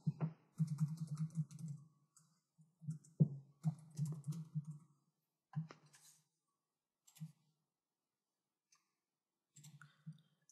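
Bursts of quick typing on a computer keyboard, clustered clicks separated by short pauses and a few isolated key taps, close and quiet with no talking.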